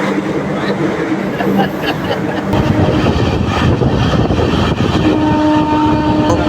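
The 12885 Aranyak Express, a new LHB train hauled by a WAP-4 locomotive, rolls along the rails, heard from on board as a loud, steady rumble and rattle with wind noise and a faint high whine.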